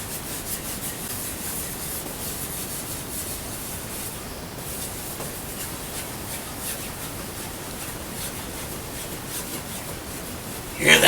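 A surface being sanded by hand for refinishing gives a steady, close, even rubbing and scratching hiss that runs continuously throughout.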